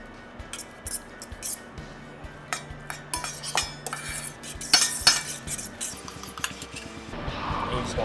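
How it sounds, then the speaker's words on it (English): Sweet potato dip with cinnamon being stirred in a bowl, with repeated clinks and scrapes of a utensil against the dish over steady soft stirring. "Now you just want to mix it up for y'all."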